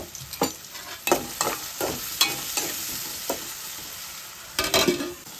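Onions frying with salt in hot oil for a gongura prawn curry, a steady broadband sizzle broken by several sharp scraping stirs of a spoon in the pan, close and fairly loud with no voices.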